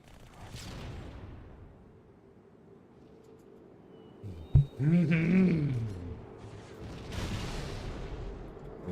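Rockets fire in a modded Halo game, with a sharp blast and a rumbling whoosh in the middle, set among softer game noise and quiet talk.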